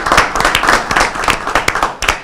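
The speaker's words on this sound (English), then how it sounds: "Round of applause for these guys." Hands clapping in applause at a city council meeting, a brisk cluster of close, uneven claps that carries on steadily and then thins toward the end, with no talking over it.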